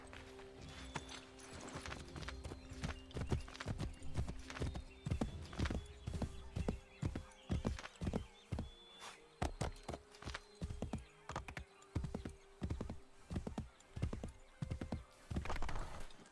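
Horse hooves clip-clopping steadily in the Assassin's Creed 3 video game, a quick, even gait of many hoofbeats with an early whinny, moderately close over a quiet game ambience.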